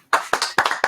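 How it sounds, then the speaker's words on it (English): A few people clapping hands on a podcast set, four quick close sharp claps in a short burst. "Boys, we're gonna get a round of applause."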